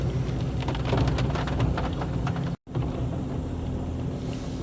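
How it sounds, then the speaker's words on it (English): Rain falls steadily on a wet, muddy outdoor work site, a dense hiss with pattering drops and a low rumble, interrupted by one brief dropout. "it's raining again"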